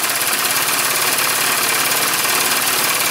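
A Jensen 5 toy steam engine with a riveted boiler runs steadily, giving a loud, continuous mechanical hiss and rapid chugging with no pauses, heard close up and alone.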